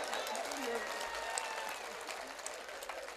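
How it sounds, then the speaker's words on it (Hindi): Applause from the audience at a mushaira poetry gathering, a steady wash of clapping across a hall, moderately loud and continuous with some crowd murmur. "ताली बजाइए अच्छा लगता हो तो भाई।"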